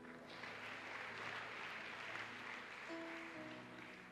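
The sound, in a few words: congregation applauding Jesus in church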